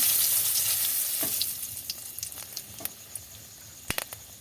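Cumin, fennel and dried chili sizzle in hot white oil, a loud bright hiss that fades over a few seconds, with sharp crackles and pops toward the end.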